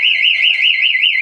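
A remote security alarm fitted to a Hero Splendor motorcycle wails close by, its electronic siren tone sweeping steadily up and down in a fast, continuous cycle with no pauses.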